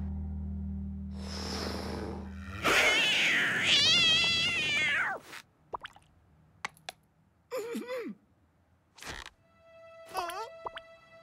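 Cartoon cat meowing in a kids' animated show, a loud drawn-out meow with wavering pitch followed by several shorter, fainter mews separated by quiet gaps.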